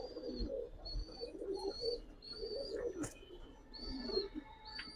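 Giribaz and racer pigeons coo in soft, repeated low murmurs, with thin high chirps from other birds scattered over a steady background.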